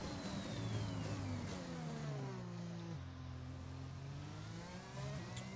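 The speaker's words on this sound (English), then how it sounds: "This is the pure roar of the Honda engine." Honda Formula 1 car engine in the racing video game F1 2021, screaming at high revs with pitch rising and falling through gear changes and a sharp shift near the middle, loud and continuous with no talk.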